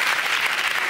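A studio audience on a comedy panel show gives a brief, polite round of applause, a dense patter of clapping lasting about a second.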